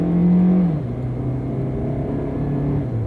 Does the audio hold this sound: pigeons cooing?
no